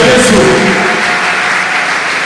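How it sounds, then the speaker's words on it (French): A church congregation applauding for Jesus, a dense, loud wash of clapping with some voices mixed in, steady for the whole stretch. "Acclamons pour Jésus."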